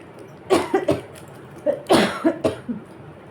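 A woman coughs in two close clusters of short, harsh bursts, each run of three or four coughs separated by a brief pause, with no speech.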